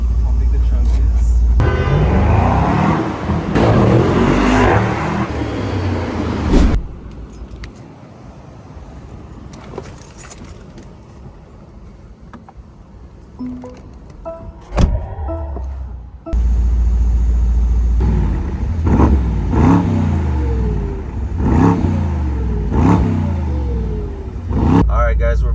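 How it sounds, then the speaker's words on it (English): A Mercedes-AMG SL63 S E Performance supercar rumbles and revs as it drives, with the engine surging loudly in bursts and someone talking over much of it. "I'm gonna go ahead and show you guys what it's like to drive a supercar. AMG SL63 SE Performance."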